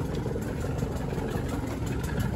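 A small boat outboard motor idles steadily with a low, even rumble and no voices, holding a constant level throughout.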